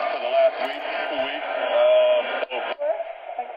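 Kaito V5 Voyager Mini emergency radio tuned to an AM station, a steady broadcast signal with voice-like content and a brief dropout near the end, heard alone and fairly loud.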